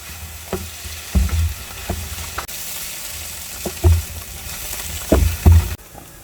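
Shiitake, garlic and sesame oil stir-fried in a pan: a continuous close sizzle broken by several sharp scraping clanks of a spatula stirring against the pan, no voices.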